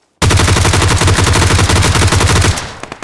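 Loud, close burst of automatic gunfire in the video game PUBG Lite on the Vikendi map, a rapid unbroken stream of shots for over two seconds, then fading echoes and a few scattered pops.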